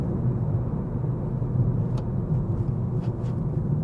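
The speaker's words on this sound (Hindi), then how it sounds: "लेकिन दिन के टाइम देखें कितना ज़्यादा गाड़ियाँ नॉर्थ से साउथ की तरफ जा रही हैं" Steady low road rumble from cars passing along Hacienda Road in Los Angeles, a continuous dense wash of traffic with no gaps and no voices.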